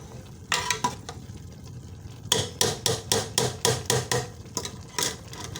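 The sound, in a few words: rice cooking in jaggery syrup on high flame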